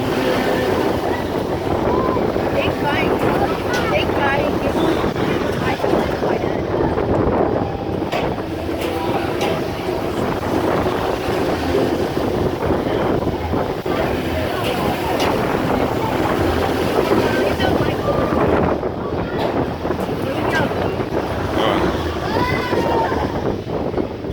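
Wind roars steadily past on a Paratrooper carnival ride at a festival in a park, a constant loud rushing with a faint mechanical rumble beneath and a voice partly buried in the noise.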